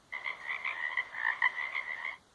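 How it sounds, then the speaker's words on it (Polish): A toad croaks as a sound effect, a close, fairly quiet rapid rattling trill of ribbity pulses lasting about two seconds against a silent background. "Olbrzymia oślizgła okropna ropucha."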